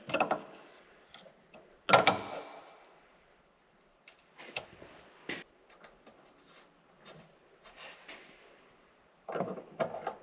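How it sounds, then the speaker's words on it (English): Adjustable wrench turning on a soybean planter in a farm shop, irregular close metallic clicks, ratcheting scrapes and clanks in short bursts separated by quiet gaps, no talk. "we're gonna use an adjustable wrench for this one"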